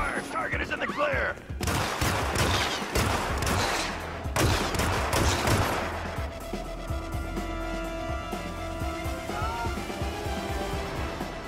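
Bursts of gunfire crack through a Hitman stealth game mission, dense volleys in the first half easing into a steady background din with in-game voices speaking.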